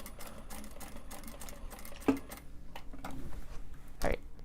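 A sewing machine stitches a seam in Japanese fabric, giving a soft, uneven run of ticking and whirring pulses up close, with a couple of sharper knocks standing out.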